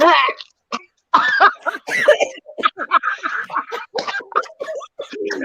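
Several people cough and gag in rough, choppy bursts, with short pauses between and some voices mixed in.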